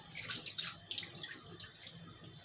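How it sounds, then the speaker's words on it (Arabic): Bulgur being rinsed by hand in a bowl of water to wash off its starch, with soft splashing and sloshing, small bursts of swishing and dripping close by, and no talking. "غادي نغسل هذه البلبوله"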